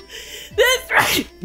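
A video game character sneezes once, a short sharp burst in the middle of the clip, with a character speaking briefly before and after it.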